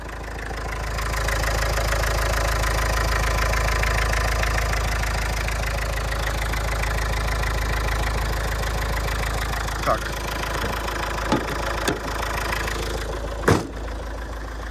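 The 1.9 turbodiesel engine of a 2004 Opel Vivaro van idles smoothly and evenly up close, a steady low rumble with a few faint clicks and knocks near the end.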